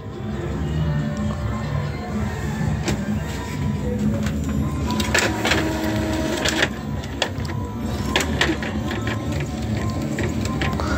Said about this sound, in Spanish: Como ya han visto, vamos a imprimir.